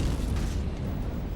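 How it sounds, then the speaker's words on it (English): A massive volcanic eruption blast, likely the ancient mega-eruption whose seawater-fed explosion hurled magma, dust and ash miles high, heard as a sustained deep, loud roaring boom with rumbling low end and no voices. "This caused an absolutely vast explosion, creating a 30-mile-high fountain of magma, dust, and ash."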